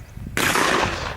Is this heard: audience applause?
no